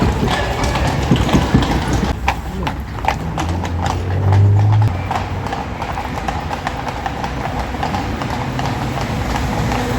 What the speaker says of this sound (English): you could also hear the sound of the horses' hoofs